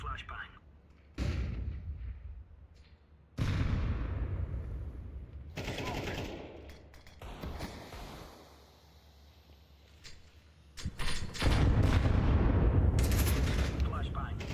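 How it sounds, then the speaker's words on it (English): A flashbang grenade in Counter-Strike 2 goes off amid bursts of gunfire and explosions, loud blasts separated by quieter gaps, with a voice speaking at times. "Throwing flashbang."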